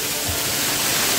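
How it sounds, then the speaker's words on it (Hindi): Heavy water crashing down at Jirikinding waterfall in the jungle, a steady, loud, close roar of spray and pouring torrent, uninterrupted and without talk. "ये मैं जिरीकिंडिंग वाटरफॉल्स"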